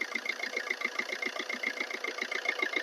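A 2010 Maruti Swift LDI diesel engine idles steadily, its close, even clatter pulsing rapidly and evenly throughout with no talking over it.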